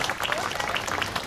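Crowd applause rings out at a Philippine flag-raising ceremony attended by political party leaders, a steady, dense patter of many hands clapping together, loud and continuous throughout.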